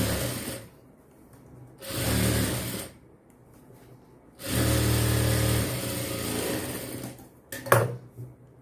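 A sewing machine double-stitches blouse sleeves in two close, loud bursts of rapid whirring, a short run followed by a longer one, with quiet pauses between and a brief clatter at the end.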